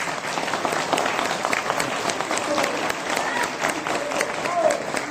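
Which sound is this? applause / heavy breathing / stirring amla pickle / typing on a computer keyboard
applause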